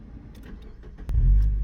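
A Mazda MX5 NBFL roadster's engine starts: faint cabin shuffling, then a sharp starter catch and a loud low rumble that settles into a steady idle.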